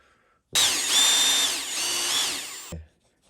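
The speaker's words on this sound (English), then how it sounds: "Drill my hole in here." A power drill whines at high pitch for about two seconds, pitch dipping as it bites into wood, then stops with a small clunk.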